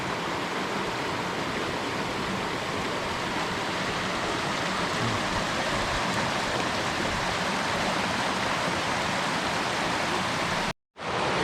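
The Middle Fork Snoqualmie River near North Bend, Washington rushes steadily, a loud, continuous broadband roar of flowing water with no voices, cut only by a momentary dropout just before the end.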